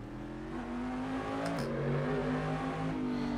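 A video game car engine drones and revs at low to mid speed with a low grunt, its pitch rising and dipping slightly, steady and moderately distant.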